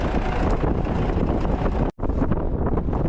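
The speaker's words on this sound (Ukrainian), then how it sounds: "Вітер сьогодні дує капітальний" Strong wind buffets the microphone at a building construction site, a loud, rough, continuous roar with a brief dropout near the middle.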